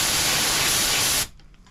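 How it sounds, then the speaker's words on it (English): A hydrographics activator spray gun with its fan fully closed blasts a loud, focused hiss for just over a second, then cuts off abruptly into near silence. "When we have the fan all the way in, it focuses all the air in one spot."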